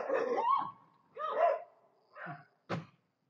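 A dog barks while playing with a bear, giving four separate barks and yelps in an uneven rhythm, close and fairly loud, ending on one sharp short yip.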